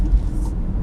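A 2019 VW Jetta engine restarting after an auto start-stop shutdown, heard as a brief, low, close rumble that settles into a steady murmur.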